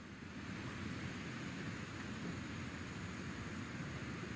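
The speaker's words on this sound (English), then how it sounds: "40-foot waves off the coast of Washington send the house and Odin to the bottom of the sea" Ocean waves in the video game What Remains of Edith Finch, a faint, steady surf wash with a low rumble, even and continuous throughout.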